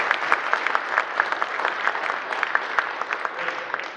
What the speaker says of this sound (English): So I think we need to give them a round of applause.